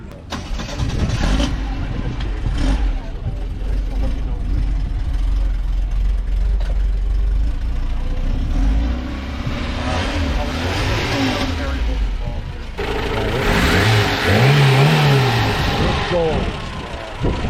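A Saab Sonett engine, recently rebuilt with new valve seat work, is fired up and left idling, then revved several times in rising and falling swells, with people talking close by throughout.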